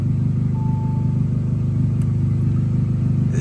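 An Audi S3 8Y engine drones with a loud, raspy, throbbing straight-pipe exhaust, holding a steady, rough rumble close by throughout.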